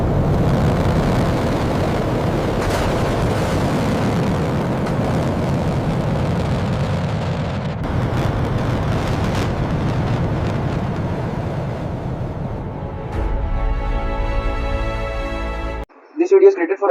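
JF-17 Thunder fighter jet on the runway, a steady loud engine roar and rumble building through the takeoff run, ending with a tonal hum and a short cutoff.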